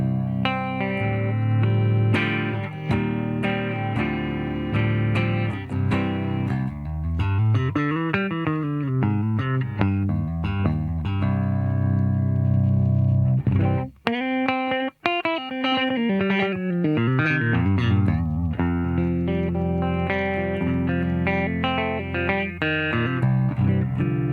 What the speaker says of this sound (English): The other mode, there's what's called Spectra mode. It's a little bit more open sounding.